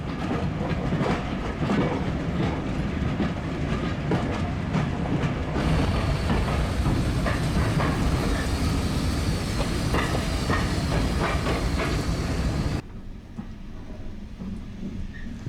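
A long 20-car train led by a Class 37 diesel locomotive rolls steadily along the Severn Valley Railway with a continuous loud rumble and rhythmic clatter, the sound shifting in tone before easing near the end.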